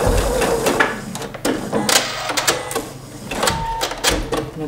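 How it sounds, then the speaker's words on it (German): A home sewing machine stitches a seam on a sweatshirt hoodie with a shawl collar, running in short mechanical bursts with brief pauses and clicks in between, close up. "Dann nähe ich das Ganze bis runter."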